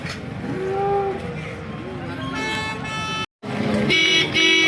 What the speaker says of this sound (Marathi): आता आपण ही गाय कव्हर करतोय.